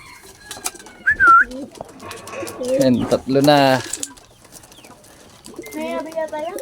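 Racing pigeons arriving at a loft, with close soft cooing and bird calls plus brief wing flutters, while someone talks over them.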